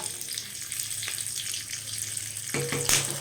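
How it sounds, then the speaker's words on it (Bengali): Curry leaves and mustard seeds sizzling in hot oil, a steady close crackle and hiss that flares up louder near the end as the leaves hit the pan. "সর্ষে থেকে একটা সুন্দর গন্ধ আসার পর দিয়ে দেব কারি পাতা"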